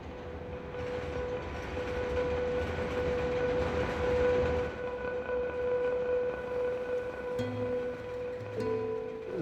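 A train passing near Wrigley Field in Chicago gives a steady, loud rumble with a sustained high metallic squeal running through it, and lower tones break in near the end; no one speaks.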